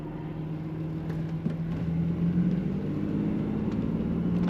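1990 Buick Reatta convertible cruising on the road, a continuous low engine hum and tire rumble from inside the car, steady and moderately loud with faint ticks on top.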